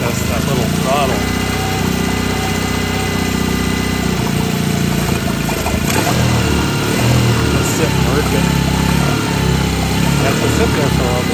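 A cold-blooded, hard-starting outboard motor idles steadily as it warms up, giving a loud, continuous mid-pitched engine drone with no pauses.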